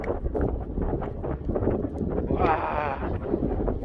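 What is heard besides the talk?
strong wind blowing at a seaside fishing spot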